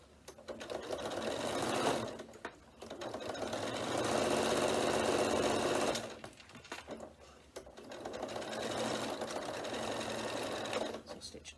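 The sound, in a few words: sewing machine stitching across a notebook cover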